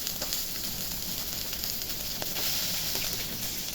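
Pieces of Rui fish being refried in hot oil in a wok, a dense continuous sizzle with crackling spits, close and steady.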